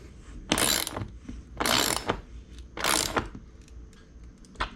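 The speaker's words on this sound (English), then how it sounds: "So we're going to drive this into the 2x4 with a socket" A socket ratchet driving an eye bolt into a 2x4 for threaded-rod garage shelving, three close, loud bursts of rapid metallic clicking separated by short pauses.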